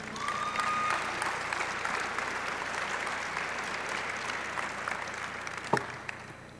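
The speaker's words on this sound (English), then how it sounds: "Another round of applause for Concentrix." Audience applause at the CHAMBERWEST gala fills the room with a steady, even wash of clapping from a large crowd. It softens slightly toward the end, where a couple of sharper individual claps stand out.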